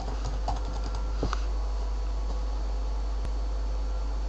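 Keys clatter on a computer keyboard as a search is typed on a Windows 7 PC, a short burst of quick close taps at the start, then sparse clicks over a low fan hum.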